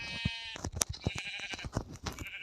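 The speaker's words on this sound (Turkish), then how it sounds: "ben koyunları pek bulamayacağım için ilk önce bir koyunları kesem" Sheep in the video game Minecraft bleating several times in a row, short nasal bleats close up against faint background clicks, no clear speech.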